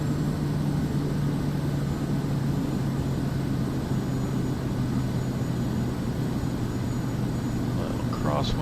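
A bush plane engine in Microsoft Flight Simulator 2024 drones steadily and loudly with a constant low hum throughout, while someone speaks over it.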